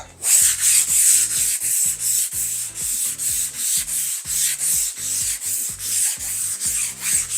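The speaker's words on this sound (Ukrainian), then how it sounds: "Грунт прекрасно шліфується." A power sander grinds steadily and close over primed chipboard, its hiss pulsing in a regular rhythm roughly several times a second.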